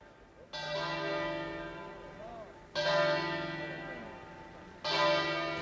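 Church bells toll at a funeral in Anguillara Veneta. Three loud, ringing strikes come about two seconds apart, each with a long, shimmering decay into the next, and a faint voice is heard underneath.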